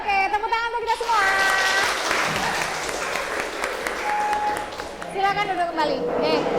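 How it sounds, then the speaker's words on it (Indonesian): Classroom group applause from students during a presentation session, a burst of clapping blended with children's voices and chatter, with a teacher's voice heard at the start and end. "Oke, tepuk tangan untuk kita semua."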